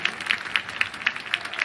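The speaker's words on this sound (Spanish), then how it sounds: "Por eso los aplausos." Rhythmic clapping from a football stadium crowd at a Paraguayan league match, a steady beat of about four claps per second, moderately loud and diffuse.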